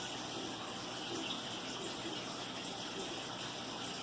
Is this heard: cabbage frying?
no